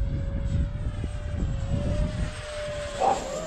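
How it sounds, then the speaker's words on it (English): A 3D printed 70mm Mirage RC jet makes a high speed pass into the wind, its electric ducted fan giving a steady high whine over wind rumble that swells briefly as it goes by. "I'm gonna do one high speed pass into the wind."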